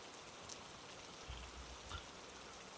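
Steady rain falls on a roadside street at night, a soft continuous hiss with a few faint low thumps, no voices present.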